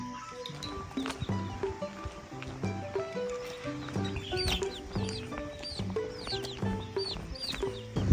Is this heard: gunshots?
no